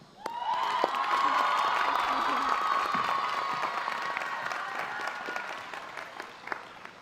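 Sustained applause and cheering from a large graduation audience at a UC San Diego college commencement ceremony, welcoming the speaker to the stage; dense, steady clapping with occasional whoops throughout.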